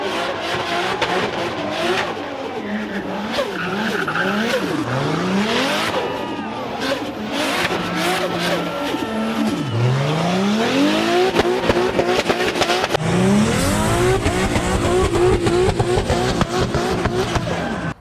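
Cars doing rolling burnouts at a burnyard show, including a C10 pickup, with loud sustained engine roar and revving, repeated tire squeals and skids, and a continuous crowd-event wash throughout.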